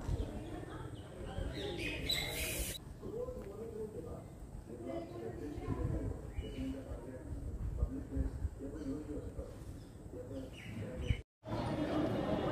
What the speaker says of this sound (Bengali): পাখির ডাক এগুলো উপভোগ করব